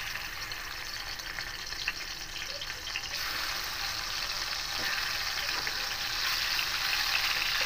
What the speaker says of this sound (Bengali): কড়াইয়ে তেল দিয়েছি, তেলটা গরম হয়ে গেছে। এবার মাছগুলো ভেজে নেব।